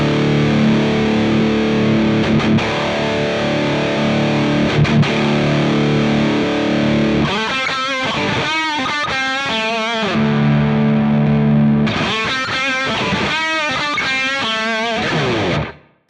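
Overdriven electric guitar through a green drive pedal, playing loud, gritty chords and riffs, with sustained sections broken by choppy rhythmic passages, ending abruptly.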